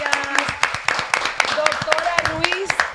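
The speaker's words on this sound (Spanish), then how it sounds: "Un aplauso para esta mujer." Brief scattered clapping from a small podcast audience, a handful of sharp claps rising and falling under lively overlapping chatter and talk.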